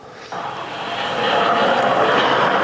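A Russian MiG-35 fighter jet roars through an airshow pass, its engine noise swelling from a sudden onset into a loud, steady, broadband rumble.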